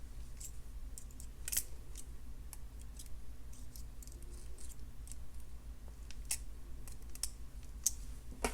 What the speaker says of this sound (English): Snip off the excess and tuck it in.